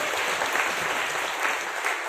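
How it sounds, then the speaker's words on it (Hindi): Audience clapping at a team training event, a dense, steady wash of applause at moderate volume with no voices over it. "यस, ताली बजा सकते हैं आप लोग।"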